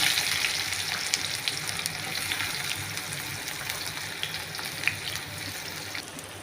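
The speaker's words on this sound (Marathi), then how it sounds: "तेल गरम झालं आहे, मोहरी टाकू, जिरे, कांदा टाकला" Mustard seeds, cumin and onion hit hot oil in a pan for dhaba-style masala bhindi, giving a loud, continuous sizzle with scattered sharp pops and crackles from the seeds.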